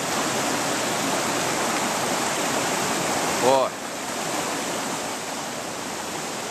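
A swollen river's current rushes past, its steady broadband roar rising with the water, loud and continuous throughout, with a brief voice cutting in near the middle.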